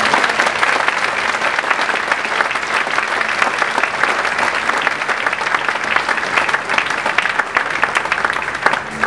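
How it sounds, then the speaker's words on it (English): A large audience at an auto industry awards event applauds an honoree, producing loud, sustained clapping that stays dense and even throughout. "Please join me in a round of applause for our Human Resources"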